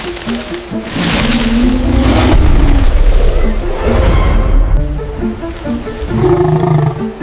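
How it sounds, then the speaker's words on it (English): A lion roars at a zoo, loud and close, in long deep rumbling bursts that swell and fade over several seconds, with no talking. "Was that a lion?"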